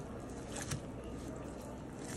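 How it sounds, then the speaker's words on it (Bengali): Fried shrimp mixed by hand with raw onion and dried and green chillies: soft, close squishing and squelching of the mash in a short, continuous stretch. "আমি এখন হাতে মেখে চিংড়ি মাছটা ভর্তা করব।"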